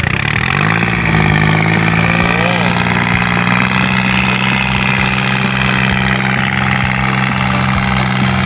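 A 45-horsepower farm tractor pulls out of a muddy rice field, its diesel engine droning loud and steady throughout, with people talking over the continuous rumble.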